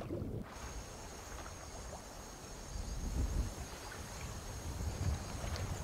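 An armored character swims through water in the video game Skyrim, giving soft continuous splashing and sloshing strokes over a steady airy ambience, with no talk.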